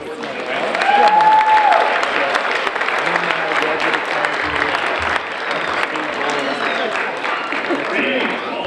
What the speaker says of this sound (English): Can we give a round of applause for all of our kindness towards the